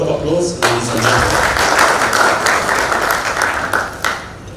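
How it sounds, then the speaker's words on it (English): Applause from the audience at a Kenyan football dialogue event, a dense, loud burst of clapping that swells and holds steady for several seconds, with a few voices mixed in. "Another round of applause, ladies and gentlemen"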